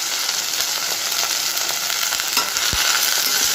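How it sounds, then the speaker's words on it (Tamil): Fresh washed mint leaves frying and being stirred in a hot pan with a pinch of salt for mint rice, a steady close sizzle with occasional scraping strokes of the spoon. "வாஷ் பண்ணி எடுத்து வச்சுருக்க புதினாவை போட்டுருவோம்."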